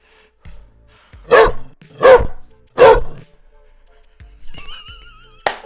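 A person imitates a big dog with three loud, deep barks at an even pace, followed by a softer vocal sound and a sharp click at the end.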